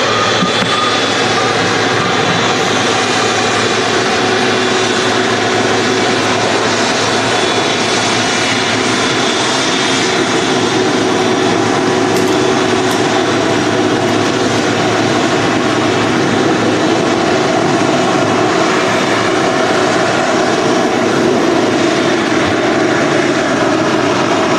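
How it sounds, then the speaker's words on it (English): A Norwegian airliner touches down at Manchester Airport, its jet engine roar steady and loud for the whole stretch, with a broad rushing wash and no voices over it. "Oh, Norwegians just touched down as well."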